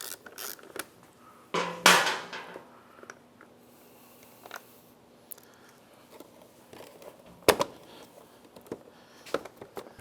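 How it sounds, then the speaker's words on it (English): Fairing bolts coming off a Kawasaki ZX-14 motorcycle give scattered mechanical clicks and ratchet-like ticks, with a loud creaking rattle near the start and another sharp burst later, all close by and without talk. "let's take off a couple of these fairing bolts"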